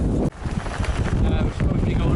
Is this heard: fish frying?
no